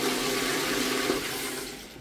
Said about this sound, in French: C'est la chasse d'eau italienne.